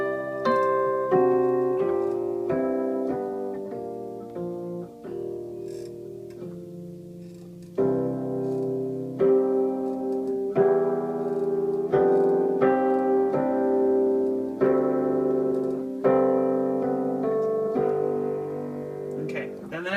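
Solo piano plays chords from a song in a cover arrangement, close and clear at a moderate pace, ending with a church-style cadence phrase. The chords ring out one after another.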